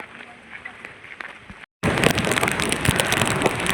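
Heavy rain falls during a village visit in Maharashtra: a faint patter gives way to a short silent gap, then a loud, dense downpour hisses steadily.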